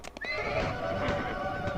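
Horses neigh and whinny over clip-clopping hooves as horse artillery moves in the strategy game Imperialism II, a steady, close mix of game sound effects with no voices.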